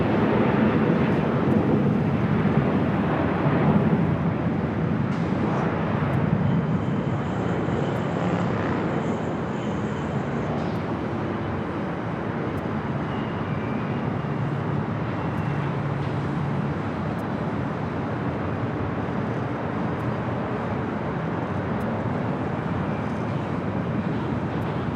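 A Qantas jet rolling down runway 25 right at Los Angeles International Airport, a broad, steady engine roar with a low rumble that holds fairly loud and even throughout, heard at a distance amid wind noise.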